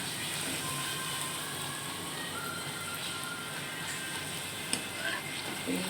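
Luchi, puffed flour flatbread, frying in hot oil, a steady close crackling sizzle throughout with a brief clink partway through.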